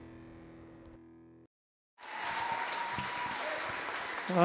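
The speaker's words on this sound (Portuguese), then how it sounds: "uma forte salva de palmas" After a short tone and a moment of silence, a large church congregation bursts into loud, sustained clapping that continues and swells toward the end.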